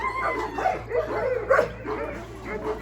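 Purebred Kangal dogs at a breeding farm barking and yipping in quick, overlapping bursts, close and moderately loud over a low steady hum.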